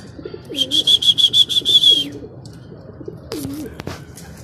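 Pigeons cooing on a roof during a pigeon race in Laoag, with repeated close low coos beside a rapid burst of high chirping and a few sharp knocks near the end.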